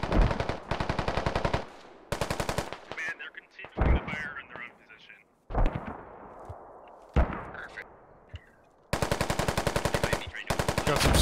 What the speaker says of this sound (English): Command, they're continuing to fire in their own position.